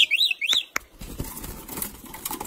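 Myna birds squabble at close range: a few sharp, rising chirps and calls, then a quick burst of wing flapping, followed by scattered scuffling.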